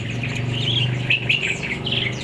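A bulbul songbird at an Indonesian bird seller's stall sings a run of bright, close chirps and warbling phrases over a steady low background hum, with no talking.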